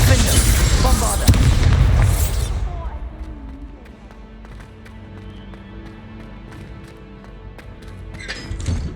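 A Bombarda explosion spell bursts in Hogwarts Legacy, a loud booming blast with crackling debris that fades into quieter ambient rumble and scattered clicks, then a fresh burst at the end.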